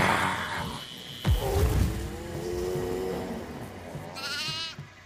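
A goat bleats in a Hindi-language horror game set on a farmhouse map, its wavering cry ringing out clearly over a low engine-like rumble and steady game ambience, with a brief sharp thump early on.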